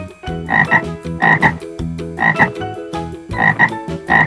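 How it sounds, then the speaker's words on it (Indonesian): A frog croaks loudly in repeated bursts of deep, throaty calls spaced roughly a second apart, alone with no talking. "kucing, kucing, kodok,"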